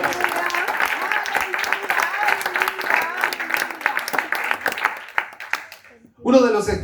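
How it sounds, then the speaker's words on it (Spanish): Strong applause from a church congregation honoring the King of Kings, with dense overlapping claps and some voices, fading out before a short burst of speech at the end. "Dele un fuerte aplauso al Rey de Reyes"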